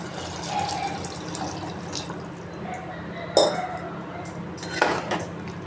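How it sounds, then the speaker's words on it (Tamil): Water poured into a metal pot while cooking mushroom biryani with wild termite-mound mushrooms, a soft trickle under light clinks of pots and utensils, with two sharper metallic clanks standing out nearby. "தேவையான அளவு நம்ம வந்து தண்ணி ஊற்றிக்கலாம்"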